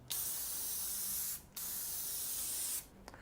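TensorGrip X40 adhesive sprays from a canister onto an acoustic panel in two sustained bursts of bright, steady hiss, each lasting over a second, separated by a short pause and a brief tail at the end, close and clear.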